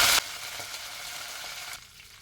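A chili sizzles in hot oil at the start of a prawn and radish stir-fry: a sharp initial crackle settles into a steady, moderate frying hiss that eases off near the end.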